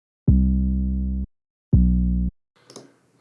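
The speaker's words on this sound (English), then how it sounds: "Let's fatten up this 808 a little bit." Two long, deep 808 bass notes boom one after the other, each held about a second, followed by a brief faint rustle.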